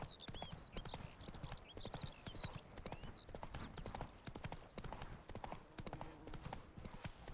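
Roach the horse galloping in the video game Witcher 3, with rapid, steady hoofbeats pounding close and loud throughout, plus a few high calls above them.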